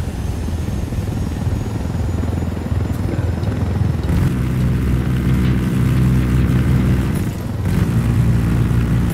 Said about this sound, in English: Quick chopper.